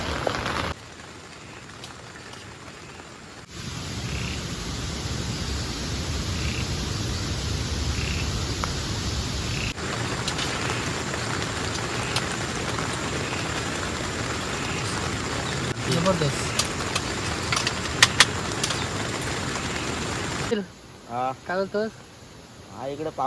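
Light drizzling rain patters steadily outside during rain camping, a soft continuous hiss with scattered drops, quieter at the start and end where a person talks nearby.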